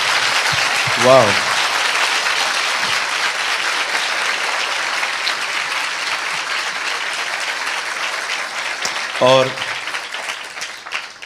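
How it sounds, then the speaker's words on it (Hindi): An audience at a Christmas church gathering applauds a pastor with steady, dense clapping lasting about eleven seconds, with a voice speaking briefly at the start and again near the end. "आइए हम अपने आदरणीय पास्टर जी के लिए एक अच्छी ताली बजाएं।"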